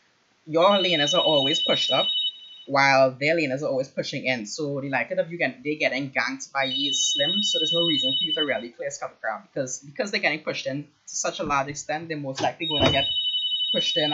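A telephone rings in the background in repeated bursts, partly masked by someone speaking continuously over it while coaching a League of Legends replay.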